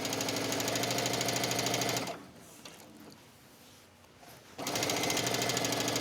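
A sewing machine stitches fabric along a fold with a steady, fast mechanical chatter, pauses for about two seconds, then resumes at the same pace, loud and close with no talking.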